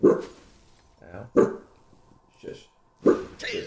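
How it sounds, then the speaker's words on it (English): A real dog barks in short loud bursts spaced apart, close by. A person briefly speaks between the barks. "What are you growling and barking?"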